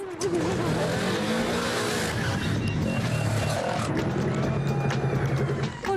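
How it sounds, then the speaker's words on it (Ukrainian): Off-road buggies roar away at the start of a stage of Ukraine's cross-country championship, a dense, continuous wall of revving engines held loud for the whole stretch, with no voices. "Поки квадроцикли долають останні кола, до виїзду готуються баги."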